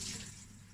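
Rinse water is poured off washed rice in a brief, soft splash and trickle, low and close, fading slightly over under a second with no talking.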